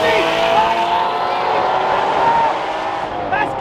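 A street-driven Indy race car roars past at close range, loud and continuous, with its pitch shifting as it accelerates, while people speak over it.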